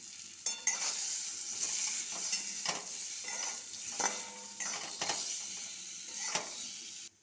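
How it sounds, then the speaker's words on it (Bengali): Boiled potatoes frying in a pan with salt and turmeric, stirred repeatedly so that rhythmic scraping strokes cut through a continuous bright sizzle; no voices. "এবার আমি সিদ্ধ করা আলুগুলোকে ভেজে নেব, একটু নুন একটু হলুদ দিয়ে ভেজে নেব"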